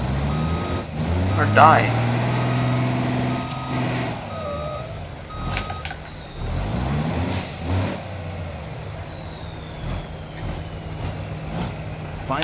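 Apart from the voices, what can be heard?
timber truck maneuvering and reversing in video game BeamNG.Drive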